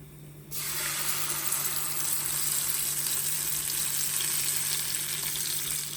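Mustard seeds, cumin, dal and curry leaves sizzle loudly in hot tempering oil after a brief quiet start, then a continuous close crackling hiss that holds to the end.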